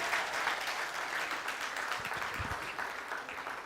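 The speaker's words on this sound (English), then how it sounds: "Let's keep clapping." Audience applause at a TEDx event at Nile University of Nigeria, steady clapping filling the room for the whole stretch, with a few low thumps near the middle and no voices rising above it.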